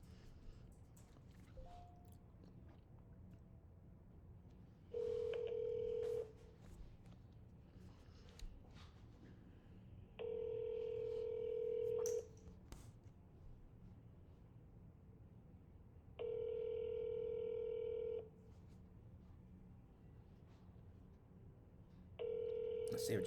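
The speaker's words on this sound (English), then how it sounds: "I'm calling to buy property, so I go ahead and I'm making some dials." Telephone ringback tones on an outgoing call to a prospective property seller, four long rings spaced a few seconds apart, clear and steady over faint background noise.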